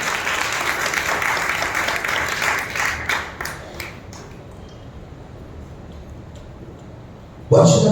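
A church congregation claps loudly and steadily during a Sunday worship service, then the applause thins out and fades, followed by a sudden burst of noise at the end.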